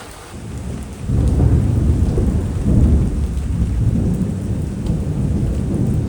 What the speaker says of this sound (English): It is raining quite a lot and the thunderstorm is quite heavy as well.